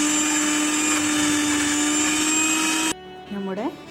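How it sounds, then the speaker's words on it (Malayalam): A kitchen mixer grinds garlic, salt and vinegar into chutney with a loud, steady whine for about three seconds, then cuts off as a voice begins speaking. "കുറച്ച് സുർക്ക ഒഴിച്ച് കൊടുത്ത് നന്നായി അരച്ചെടുക്കാം."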